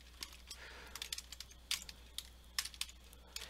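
Quick bursts of keystrokes on a computer keyboard while a web developer enters email and password fields, irregular clicks clustered in short runs, close and fairly quiet with no talking.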